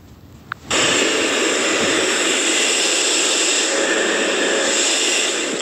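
PlayStation 5 console with its disc drive spinning up, an abrupt onset followed by a steady, loud, even whirring hiss that holds continuously to the end.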